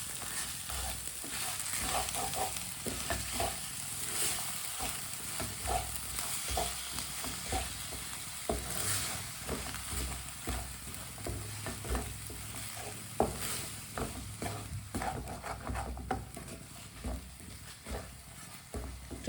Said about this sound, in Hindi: कम आंच पे गुड़ को मिक्स करना है